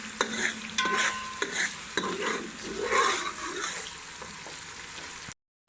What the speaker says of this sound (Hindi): अब उसको 2 से 3 मिनट के लिए भूनेंगे।